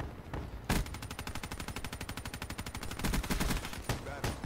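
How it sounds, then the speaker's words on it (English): Rapid automatic gunfire in the PC shooter Black Ops 3, a steady fast stream of shots for about three seconds between a few heavier single reports, fairly quiet in the mix. "He shot me through the wall because he was looking at his teammate."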